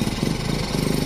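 A HOWO 420 truck's diesel engine runs steadily at idle, a continuous low rumble with an even, throbbing pulse, close and loud throughout with no speech.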